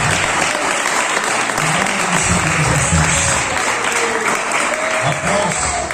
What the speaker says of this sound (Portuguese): Pode aplaudir, pode glorificar, pode exaltar